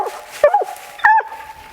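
Coon hunting dog pup giving two sharp, close barks with short yelping tails, separated by a brief pause, with no talk over them.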